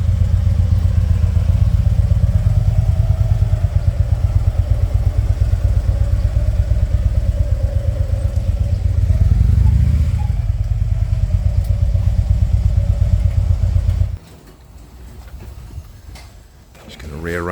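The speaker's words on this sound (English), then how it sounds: "These two swapped bikes on the way, so Junior went on Dinah's bike and Dinah went on Junior's bike" Motorcycles ride along on a group bike trip, a loud steady engine drone with wind rumble that drops off abruptly near the end, leaving quieter background noise.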